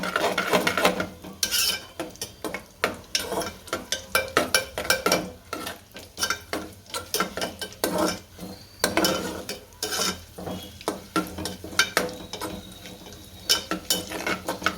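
Broken wheat (fada) being roasted in a pan while stirred with a spoon, producing a steady series of scraping, rustling strokes with light sizzle, moderately quiet and close, with no talking.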